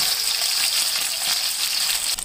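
Tilapia fish fillets fry in hot oil in a wok, producing a steady close hiss and sizzle for a couple of seconds, with no voices.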